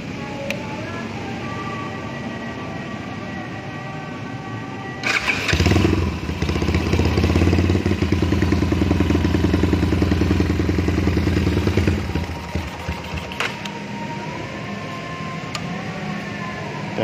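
A custom-restored Yamaha Scorpio motorcycle with a 32 PWK carburetor is started, revving up loudly for several seconds in a close, rattling burst before settling back to a steady idle.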